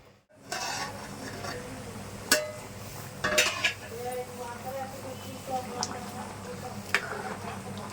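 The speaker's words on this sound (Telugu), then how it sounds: "మూత పెడతాను" A metal lid is set onto a cooking pot of goat head curry, giving a few light clinks and clatters at close range over a steady low kitchen hum.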